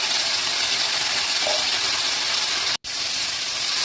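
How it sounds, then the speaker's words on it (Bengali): Beans, potatoes and tomatoes fry in a pan with a steady, close hissing sizzle that cuts out for a split second before resuming. "শিম, আলু আর টমেটোগুলো একটু ভাজা ভাজা হয়ে গেলে"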